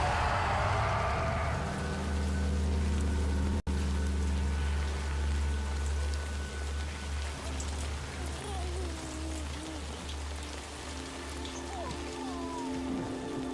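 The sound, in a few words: Timefall rain in the video game Death Stranding 2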